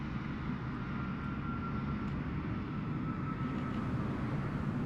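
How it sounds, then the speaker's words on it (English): Airplane engine in Microsoft Flight Simulator 2024 drones as a steady, broad, even hum for several seconds, continuous and fairly loud with no talk. "I hear a plane."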